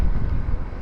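Strong Aadi-month wind hits a rider on an Xpulse 200 4V motorcycle at about 110, making a loud, low, rumbling buffet against the microphone that lasts through the brief moment without a break.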